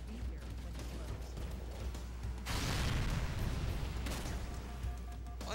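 A large explosion in Halo: Combat Evolved Anniversary on The Maw, a loud rumbling blast that swells suddenly over steady game noise and fades after a second or so.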